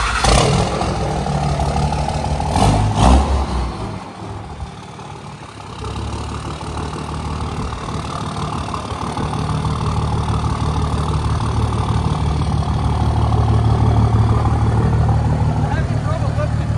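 A third-generation Cummins diesel pickup truck idles in a shop, a loud, steady low rumble that swells slightly toward the end, with someone talking over it.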